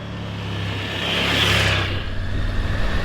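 A 2024 Triumph Tiger 900 motorcycle on off-road tyres rides Spanish dirt trails. Its engine drone swells and then steadies with a brief rise in hiss, close and continuous with wind noise.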